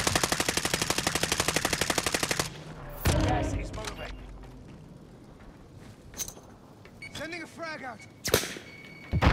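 Gunfire in Call of Duty: Modern Warfare, opening with a rapid, loud burst of automatic shots, followed by scattered single cracks and impacts, with voices talking in between.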